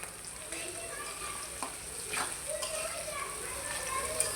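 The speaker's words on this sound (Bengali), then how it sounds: "পেঁয়াজ ভাজার সময় সবসময় আমি আগে লবণ দিয়ে দিই" Onions sizzle in a frying pan with salt added, a steady hiss with soft stirring scrapes, while children's voices carry faintly in the background.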